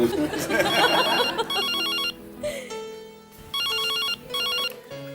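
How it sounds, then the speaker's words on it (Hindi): A telephone rings in repeated electronic trilling bursts, loud and close, with chatter and other sounds filling the gaps between rings. "फोन आया था।"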